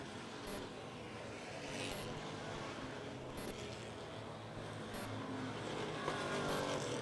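Dirt track race cars at an Amsoil Dominator shootout roar out of turn 2 as the leaders close on a lapped car, a steady, fairly distant engine drone that swells slightly toward the end with no talk.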